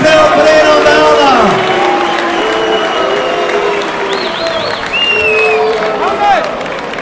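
A crowd at a Muay Thai trophy fight in Malmö applauds loudly after the judges' decision, with clapping mixed with shouts, whistles and whoops close by.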